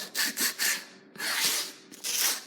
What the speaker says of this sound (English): mine's an electric one, but you don't need to turn it on to do this. You just need to rub those off.